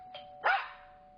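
A single dog bark, short and close, follows a brief yelp over a steady electronic tone and faint background.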